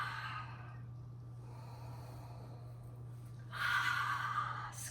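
A long, breathy exhale during a yoga cat-cow stretch rises near the end of the clip. It sounds airy and moderately loud, with no talk over it.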